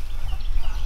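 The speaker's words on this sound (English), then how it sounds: "These were our red sexed chickens." Clucking from a flock of 15-month-old red sex link chickens, a steady low murmur of soft clucks close by with no talking.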